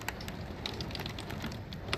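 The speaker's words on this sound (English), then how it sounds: "It started raining out of nowhere, okay?" Rain falling outside, a soft continuous patter of scattered drops over a low steady hiss, faint and distant with no voices.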